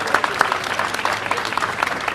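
Crowd applause at an outdoor Jordanian flag-raising ceremony in Yonkers, a dense, steady clapping that holds at the same level for the whole stretch.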